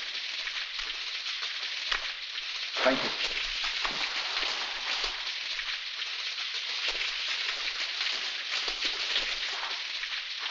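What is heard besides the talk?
rain falling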